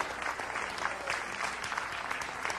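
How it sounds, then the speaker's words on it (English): A church congregation claps hands during a sermon, the applause loud and sustained across the whole stretch, with dense overlapping claps from a crowd. "Come on, clap your hands anyhow."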